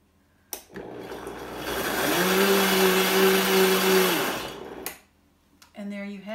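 A blender whirs through oat and chia waffle batter, rising to a steady droning pitch for a few seconds and then winding down, with a short burst of speech just after.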